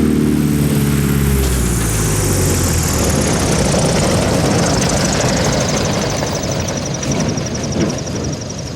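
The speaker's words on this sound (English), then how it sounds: "Now we can see the landing of the Cessna 170B in the very same gravel bar." A Cessna 170B light propeller airplane lands on a gravel bar, its engine droning loud and close while the pitch sweeps downward as it comes in, with no voices.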